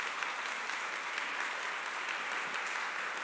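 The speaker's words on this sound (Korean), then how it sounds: "박수로 우리 아이들을 보내겠습니다" A church congregation claps to send children off from a Sunday service, a steady, even wash of applause sounding somewhat distant and continuous without a break.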